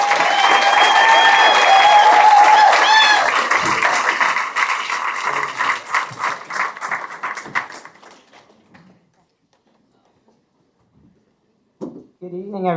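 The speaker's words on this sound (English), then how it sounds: "So can we get a round of applause for Leanne" Audience applause welcoming a presenter at a Pechakucha Bermuda evening, dense clapping for several seconds that thins out and stops, followed by a brief burst of sound near the end.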